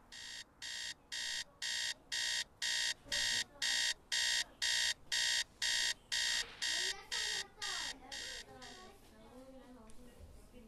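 An alarm clock beeps in a steady, rapid pulsing pattern for several seconds, then stops, leaving a voice talking quietly over background noise.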